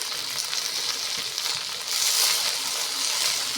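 Mixed leafy greens fry with turmeric and salt as they are stirred in a hot pan, giving a dense, continuous hiss and crackle that swells slightly midway.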